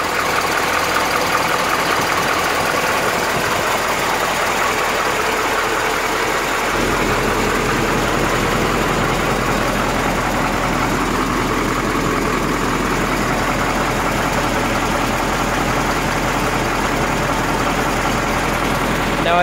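A 1989 Thomas bus with a Cat 3208 diesel engine idles steadily and loud, a continuous low rumble whose knocking tone deepens and thickens partway through, with no talk.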